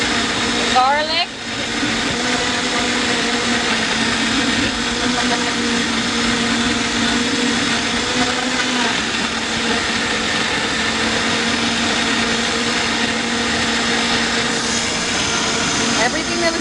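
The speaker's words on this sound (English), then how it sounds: "Everything that was in the bowl is now in the blender." A blender puréeing homemade spaghetti sauce ingredients, including garlic, whirs at a constant high speed for the whole stretch, a loud steady motor drone with a brief shift near the start.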